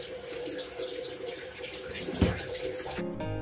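Drinking water running from a kitchen tap into a container, a steady rushing pour with a brief splash partway and a tone change near the end as it fills, heard close with no talk.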